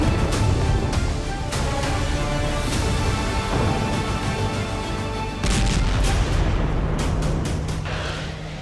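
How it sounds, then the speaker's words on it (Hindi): A loud, rumbling blast from a crashing drone on a city street, with sustained roaring noise, followed by a second sharp burst and crackling debris as the sound slowly fades. "शहर की एक सड़क पर रूस का ड्रोन गिरने से जबरदस्त विस्फोट हुआ।"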